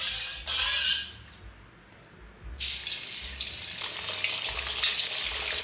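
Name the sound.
fish heads deep frying in hot oil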